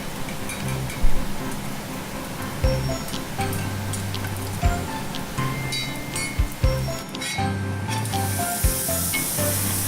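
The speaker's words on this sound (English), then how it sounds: "I've added my diced red onions, and I'm going to cook them just long enough where they're nice and soft and translucent." Diced red onions saute in bacon fat with a soft, steady sizzle, crackling with scattered pops, while faint low background sounds hum along beneath.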